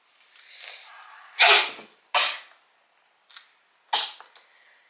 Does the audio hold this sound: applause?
no